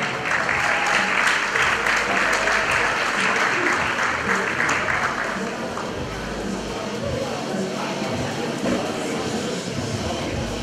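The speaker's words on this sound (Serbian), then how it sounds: "jedan veliki aplauz za naše medijske pokrovitelje" An audience at the IBFF Serbia Open 2016 bodybuilding event applauds for the media sponsors, with dense, loud clapping for about five seconds that then thins into lighter scattered claps and crowd murmur.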